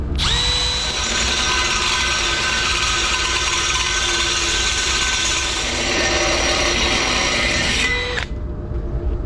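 A Milwaukee M12 Fuel cordless hammer drill with a 1.5-inch hole saw whines steadily at full speed for about eight seconds, grinding through a 2-inch chilled water pipe, then abruptly stops.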